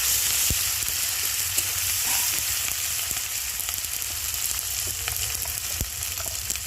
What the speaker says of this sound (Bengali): টমেটো কুচি, কাঁচা লঙ্কা, গুঁড়ো লঙ্কা দিয়ে মশলাটা ভালো করে কষিয়ে নেব।